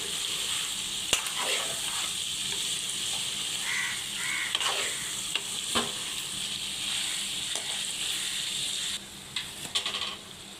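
Farm chicken frying in a pan gives a steady, fairly loud sizzle with occasional stirring scrapes and clinks, and a crow calls faintly in the background.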